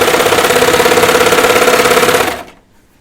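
A serger stitches knit cotton interlock T-shirt fabric, running loud, fast and steady with a rapid rhythmic chatter, then stopping abruptly near the end to leave near silence.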